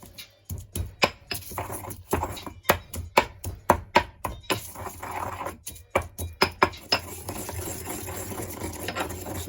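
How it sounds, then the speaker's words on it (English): Garlic being bashed and crushed for a slow cooker kebab, a series of sharp, close knocks in uneven bursts, some quick and clustered, others spaced out, over quiet kitchen background. "So get your garlic nice and bashed up."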